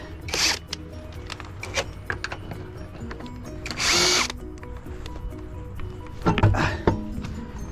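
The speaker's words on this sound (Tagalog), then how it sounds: "Kailangan talaga natin ng dalawang impact." An impact wrench works on the front brakes of a 2018 Cadillac during a brake and rotor replacement, firing in several short, loud bursts separated by pauses, close up, with faint background noise between.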